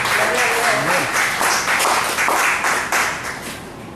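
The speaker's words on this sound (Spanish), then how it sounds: "¿Cuántos aplaudan a Dios en esta hora?" A church congregation applauds in a dense, steady burst of clapping that tapers off toward the end, with voices mixed in.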